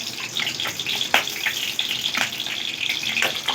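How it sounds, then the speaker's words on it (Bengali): Two halved bay leaves and panch phoron spices crackle in hot oil, a bright continuous hissing sizzle with small pops scattered through it, close and fairly loud, with no talking. "খুব ভালো করে এই দুটোকে ফোড়ন করে নিচ্ছি"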